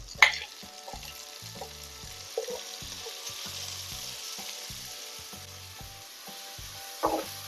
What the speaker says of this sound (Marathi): हे आपल्याला छान परतवून घ्यायचे आहेत.